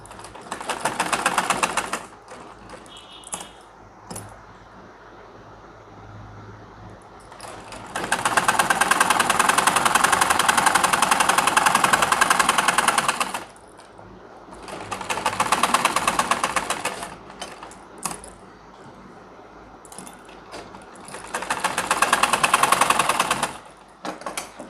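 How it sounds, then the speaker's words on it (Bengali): Sewing machine stitching a pajama pocket, whirring close in four separate runs of several seconds each, separated by quieter pauses with light handling clicks. "এখন আমরা এখানে সেলাই করে দিব।"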